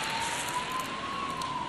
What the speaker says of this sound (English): Just wait for the siren now.